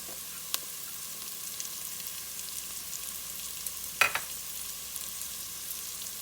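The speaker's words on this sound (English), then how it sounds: "now that my onions have started cooking, I'm going to add my minced garlic" Minced garlic added to onions cooking in butter for broccoli cheddar soup, a soft continuous sizzle with a couple of sharp stirring clinks, close and alone.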